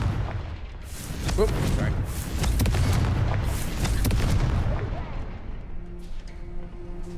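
A Confringo fire spell detonating in the video game Hogwarts Legacy, with loud booming blasts and crackling bursts rolling on for several seconds, with a voice speaking over the start.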